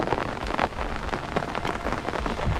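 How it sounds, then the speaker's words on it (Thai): Heavy rain pours down during Typhoon Molave over rice fields at harvest time, a dense, continuous hiss of drops drumming on surfaces, with no voices. "ฝนตก"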